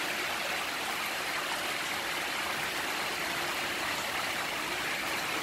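Water gushes from a manhole during a heavy downpour, making a loud, steady broadband rushing roar like a torrent, constant for the whole stretch with no voices.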